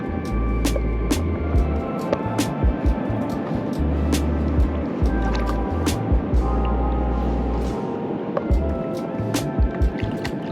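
Sea waves at a beach in Zanzibar, a steady wash of surf with low rolling swells rising and falling in repeated surges, close and fairly loud, with no talk.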